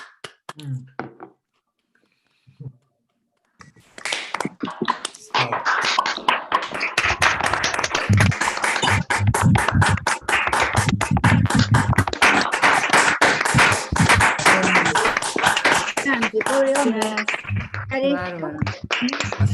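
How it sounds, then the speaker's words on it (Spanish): After a quiet start, an online audience breaks into sustained, dense applause over open microphones, joined by scattered voices, the clapping continuing until a voice speaks near the end. "abrir los micrófonos y hacer un aplauso cerrado"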